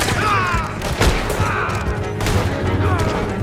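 Scattered gunshots ring out in the video game Red Dead Redemption 2 during a chase on horseback, several sharp cracks spread over a noisy mix with voices speaking over them.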